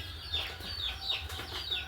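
Spotted chicken chicks, about six weeks old, give soft repeated peeps and clucks at a poultry farm, several faint chirps over a low steady rumble of background noise.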